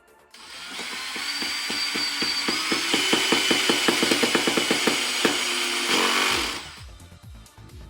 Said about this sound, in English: we're going to drill 2 countersink holes on opposite sides